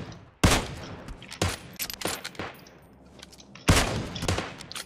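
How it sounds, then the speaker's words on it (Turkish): Gunfire in PUBG Mobile booms in a few loud, separated volleys with shorter sharp shots between them, close and punchy over a quieter game background. "He's shooting at me"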